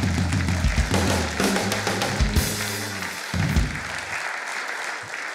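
A studio audience at a Czech television talk show claps in sustained, dense applause that fills the room and fades slightly toward the end, with no one speaking over it.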